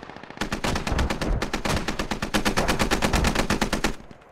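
Sustained machine gun fire from the military shooter game Squad, a rapid, evenly spaced stream of loud, close shots that runs nonstop for about three and a half seconds before cutting off.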